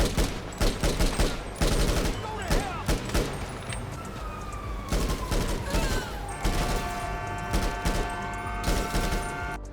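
Rapid bursts of rifle fire in GTA Online, loud and repetitive, with echoing shots and a faint electronic whine running underneath.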